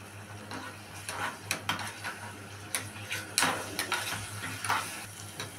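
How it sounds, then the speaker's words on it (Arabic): Garlic and coriander fry in a pan for molokhia while a spoon stirs them, giving irregular light scraping ticks over a soft, steady sizzle. "نبتدي بقى ان احنا نقلب فيها."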